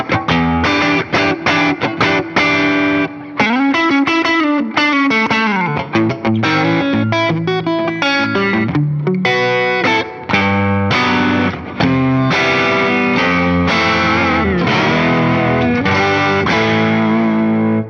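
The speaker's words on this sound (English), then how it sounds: "Let's put a tube screamer in front." Fender Player II Stratocaster played through a Tube Screamer overdrive pedal into a Tone Master Pro, giving continuous loud, distorted chords and riffs with sustained crunchy notes and short pauses, with no voices.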